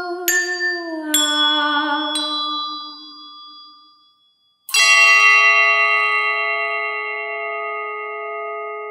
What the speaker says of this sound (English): This bell sings, I dispel the winds.